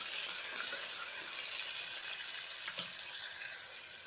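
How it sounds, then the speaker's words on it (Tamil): Onions sizzle steadily as they fry in a pan while egg macaroni is cooked, a close, continuous crackling hiss with a few soft pops and no talking. "வெங்காயம் நல்லா வதங்கட்டும்."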